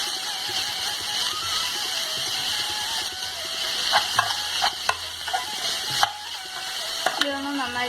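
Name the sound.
chicken being stirred and sautéed in a pan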